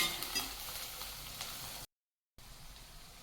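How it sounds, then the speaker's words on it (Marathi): Onion frying with ginger-garlic paste in a pan, a steady broadband sizzle with soft stirring scrapes, cut by a brief silent gap before the sizzle resumes. "आता हा कांदा ना रेड होईपर्यंत आपल्याला परतून घ्यायचा आहे"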